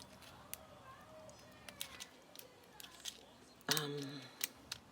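Small scissors snip quietly in a series of light, irregular clicks, with a louder clack partway through against a faint room background.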